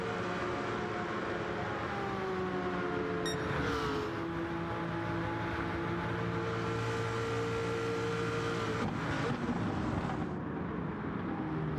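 Group C race cars roar in Gran Turismo 7, several engines droning together with rising and falling pitch as they pass, continuous and fairly loud with no talking.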